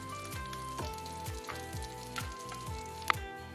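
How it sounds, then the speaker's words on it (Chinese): Salmon frying in oil in a pan, a steady close crackling sizzle with small spits and pops, alongside a faint rhythmic mechanical tick in the background and no voices. "三文鱼呢，我们大约每面煎一个1分钟半就可以的啦。"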